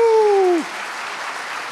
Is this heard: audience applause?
yes